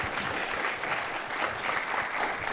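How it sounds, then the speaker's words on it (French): An audience applauds at a film screening event at the Cinémathèque suisse, a steady, dense clapping from a full room that carries on evenly throughout, with no voices over it. "je vous invite à l'applaudir"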